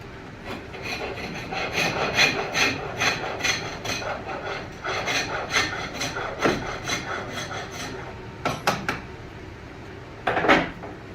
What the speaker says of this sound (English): It's foot powered lathe. Called a spring pole lathe because it has a spring pole over here.